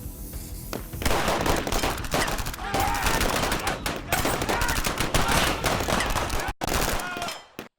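Gunfire shootout in a music video: dense, loud bursts of rapid shots and volleys, nearly continuous, with a few brief breaks.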